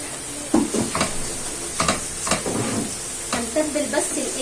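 Onion frying in hot ghee in a pan, a steady sizzle with scraping stir strokes, moderately close, under light background hiss.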